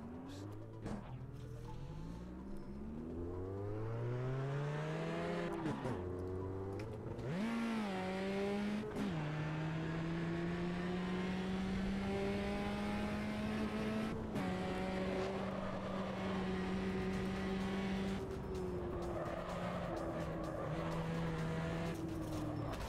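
Racing car engines roar and rise through gear changes in Automobilista 2, a continuous loud whine with occasional tire squeals, with a field of about 27 cars.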